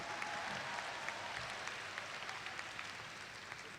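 An audience at a college commencement ceremony claps steadily throughout, a dense wash of many hands at moderate distance, with no talking.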